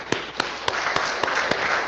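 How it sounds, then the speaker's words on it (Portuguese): Steady congregational applause fills a church service, with a string of louder individual claps standing out at a quick, even pace over the dense wash of many hands. "Para o Senhor Jesus, uma linda salva de palmas"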